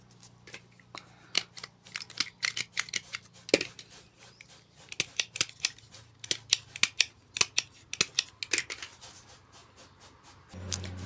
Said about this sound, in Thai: แล้วก็มาแม็ก อยู่ทางหลัง